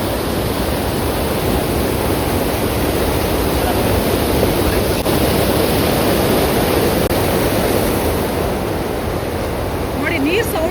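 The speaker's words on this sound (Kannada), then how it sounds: "ನೀರು ಸೌಂಡ್ ನೋಡಿ ಎಷ್ಟು ಚೆನ್ನಾಗಿದೆ ಅಂತ" Water rushes along a stream running high after rising overnight, a loud, continuous broadband wash heard close up without a break.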